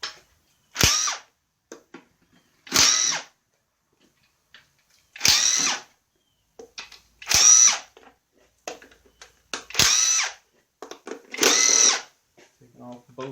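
A Harbor Freight Earthquake air impact wrench on 150 psi air rattles bolts off an engine during radiator and valve cover work, six or seven loud close hammering bursts of about a second each, separated by quiet gaps.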